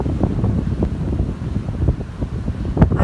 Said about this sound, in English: you can probably hear the wind. I don't know how high it's gusting. It's gotta be at least 50 kilometers an hour.